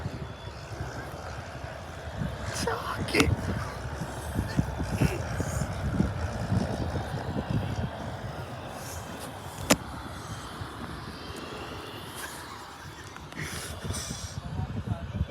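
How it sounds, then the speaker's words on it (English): An RAF Chinook helicopter descends to land at Bournemouth Airport, its rotor thump and turbine roar steady at a distance beneath people talking and a breezy outdoor hiss. "It's actually see a Chinook landing. And it's descending"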